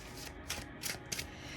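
Linen-finish tarot cards are shuffled by hand in a traditional overhand shuffle, giving four quick papery riffling bursts close up over a soft steady background hiss.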